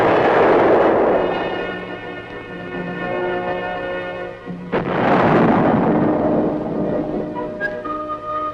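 A large tank gun fires at a proving ground with a heavy muzzle blast, two booming reports a few seconds apart. Each one rolls into a long, deep rumble that fades slowly.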